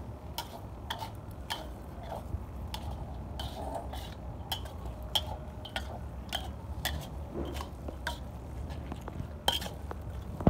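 Kwetiaw goreng, fried rice noodles, with egg being stirred in a pan: irregular clicks and scrapes of a utensil against the metal over a faint, steady sizzle.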